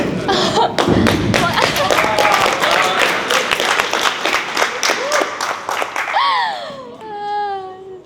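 At a baseball game, a cluster of sharp claps and thuds from nearby people runs for several seconds, mixed with voices and laughter, before fading into a voice and a high crying tone at the end.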